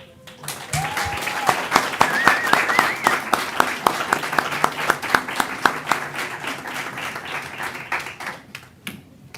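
Audience applause at a school board meeting as a middle school girls basketball team enters, sustained clapping with distinct individual claps standing out, and brief speech near the start.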